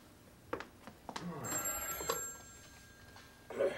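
A telephone rings late in the evening in a home, with repeated bell-like bursts sounding at moderate level alongside faint room noise and brief voice-like sounds.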